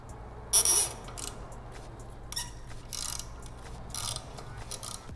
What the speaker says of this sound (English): with an 8mm socket, and loosen the pinch bolts